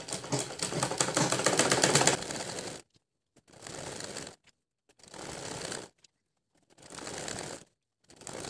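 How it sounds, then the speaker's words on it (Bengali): Sewing machine stitching elastic onto a salwar waistband: a long, fast mechanical whir first, then three shorter bursts of stitching separated by near-silent pauses, close and alone. "মাঝখানে ধরে কিন্তু আমাকে সেলাই দিতে হবে"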